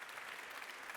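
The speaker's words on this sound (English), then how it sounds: "Big applause for the two gentlemen." An audience at a conference panel applauds the speakers, a brief, steady spatter of many hands clapping at moderate distance, fairly quiet.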